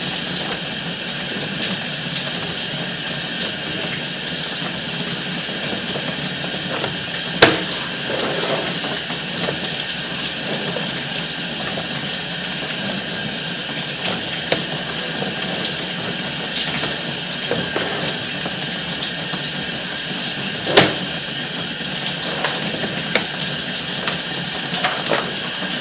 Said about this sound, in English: Now we're just adding more water to it, which is why we're under the water.